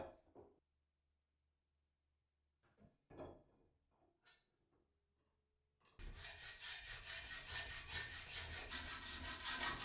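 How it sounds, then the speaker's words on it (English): A pole is sawn to length for a scaffold-board industrial bench: a few quiet knocks and handling sounds, then close, loud, rapid back-and-forth saw strokes that run steadily to the end. "first I need to work out how long it needs to be and get it cut down"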